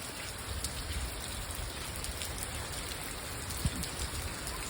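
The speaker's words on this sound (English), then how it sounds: "I like the sound of the rain" Steady rain falls outdoors in a broad, even hiss of drops on surfaces, constant throughout, with a faint low rumble and occasional louder drips.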